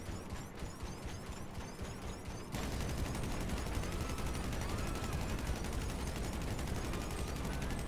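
Gunfire in Grand Theft Auto V, a dense continuous crackle of shots and action noise that starts thinner and turns louder and fuller after a sudden jump, with no voices heard.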